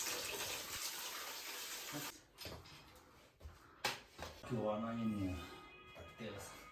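Water rushes from a newly installed shower mixer fed by a water heater, a quiet, steady hiss for about two seconds, then fainter splashing as a person talks.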